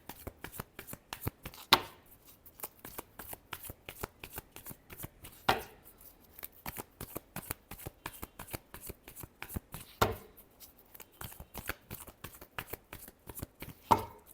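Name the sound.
tarot cards being shuffled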